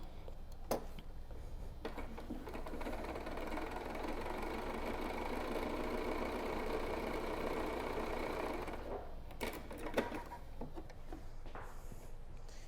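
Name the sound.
sewing machine stitching a pleated fabric mask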